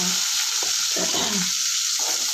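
Small onions hitting hot oil for chutney, a loud, dense hiss and sizzle that stays steady throughout, close up with faint stirring underneath.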